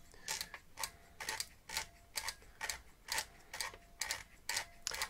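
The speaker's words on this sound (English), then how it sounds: "as I'm winding, you can kind of see the winder knob reversing itself" A La Sardina camera's winder knob being turned to rewind film, a faint run of evenly spaced clicking ratchet ticks repeating steadily, close to the microphone.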